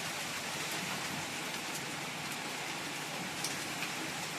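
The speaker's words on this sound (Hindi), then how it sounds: "बारिश का इंतजार करते करते बारिश होने लगी है झमझमा के" Steady heavy rain pours down, a dense unbroken hiss with no voices, close and loud throughout.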